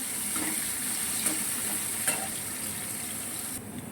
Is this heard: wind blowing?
no